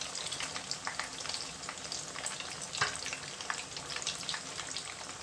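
Potato flatbreads frying in a shallow layer of oil, a soft continuous sizzle and crackle with scattered small pops, heard close and fairly quiet with no talking.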